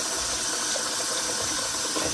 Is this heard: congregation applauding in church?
no